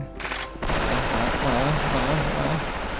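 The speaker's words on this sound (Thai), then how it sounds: "มีคนวิ่งตัดหน้ายิงกราดเข้าไปครับ" Rapid automatic gunfire sprays continuously in the mobile shooter game Special Force, a dense sustained burst after a brief opening, with a voice talking over the shooting.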